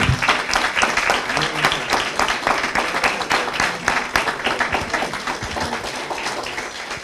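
An audience claps together steadily for several seconds at an event honouring a writer, with dense, sustained applause and no voices on top.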